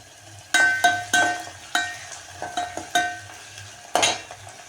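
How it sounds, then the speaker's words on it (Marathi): Finely chopped tomatoes fry in oil for a moong dal amti, heard as a soft sizzle beneath a series of close, distinct clinks and scrapes of a spoon against the pan, spaced irregularly across the few seconds. "टमाटे छान असं फ्राय होऊ द्यायचं आहे याला हा तेलामध्ये"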